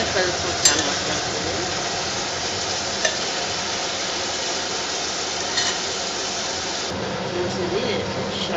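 Turmeric is stirred into a yellow cucumber curry in a hot pan: a constant sizzle runs throughout, with occasional scrapes and light clinks of the spoon against the pan.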